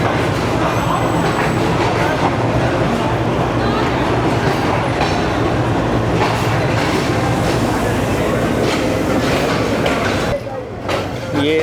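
The refurbished Pak Business Express rumbles along loudly near Nawabshah station, with a continuous roar of wheels on rail and faint clatter, and people talking throughout.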